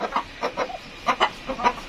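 Laying hens in a small home poultry shed holding about 200 birds cluck in short, close bursts, several quick calls spread across two seconds.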